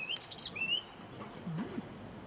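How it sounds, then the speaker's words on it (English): Birds chirp outdoors in a quiet spot, with a few short, bright tweets up front and a lower call later, over soft background hum. No one speaks. "We like the bird noises."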